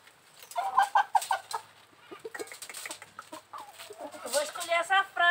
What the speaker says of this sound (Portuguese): Eu vou escolher essa franga bonitona, gorda.